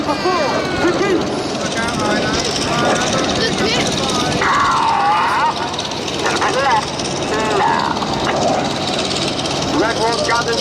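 Red Arrows jets flying an aerobatic display, heard as a loud, continuous engine roar that fills the whole stretch while a commentator talks over it.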